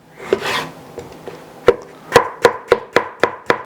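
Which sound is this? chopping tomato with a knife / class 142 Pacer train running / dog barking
chopping tomato with a knife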